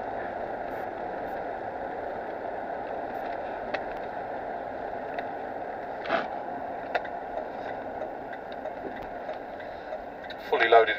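A Range Rover Vogue 4.4 V8 on LPG pulls away on the road, giving a continuous, even engine and road roar from inside the cabin with a few light knocks and bumps near the end.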